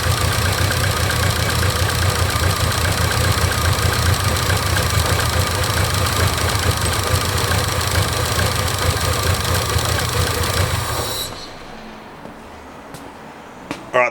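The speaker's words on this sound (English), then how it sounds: "I'm gonna hit the key and we'll see what happens" A freshly built Honda K20/K24 engine runs steadily at idle, loud and close with a low rumble and a slight knock, then cuts off, leaving quiet with a few faint clicks.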